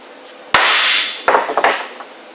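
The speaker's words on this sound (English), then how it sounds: "I hit that cap on purpose to show you it's tight" A hammer strikes the bearing cap of an axle universal joint, landing a sharp metallic blow followed by a few lighter, quicker taps close by.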